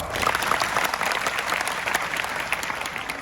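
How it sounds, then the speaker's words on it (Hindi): Crowd clapping at a motivational lecture, a steady, fairly loud patter of many hands filling the whole stretch. "वाह, ताली बजाओ।"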